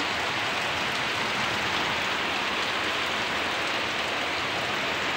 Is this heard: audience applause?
no